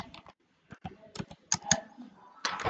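Someone types into an online form on a computer keyboard, with quick bursts of close, crisp key clicks separated by short pauses. A fast flurry of keystrokes comes near the end.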